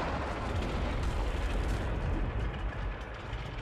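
A missile explosion during the Fortnite rocket launch event, a loud sustained roaring blast with broad rumbling low end that barely eases over a few seconds, no talk heard.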